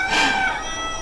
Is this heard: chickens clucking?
yes